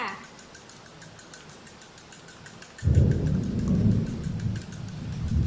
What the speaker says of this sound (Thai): ฝนฟ้าก็ร้องดังมากนะคะ